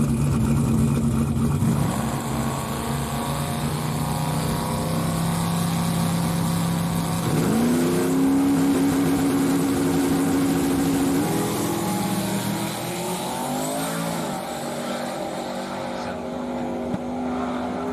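A Chevy Luv racing truck roars as it accelerates hard down the track, its engine note climbing through gear shifts, loud and close from start to finish, with talk underneath.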